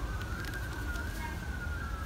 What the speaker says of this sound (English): there's an ambulance now